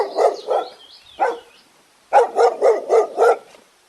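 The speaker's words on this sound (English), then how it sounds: "D for dog." A dog barks two times, then once more, and after a pause lets out a quick run of five loud barks, close and clear, with a high whining tone early on.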